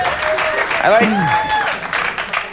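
A studio audience at a late-night talk show reacts to a wrestler's story with loud applause and mixed crowd noise, while voices talk over it.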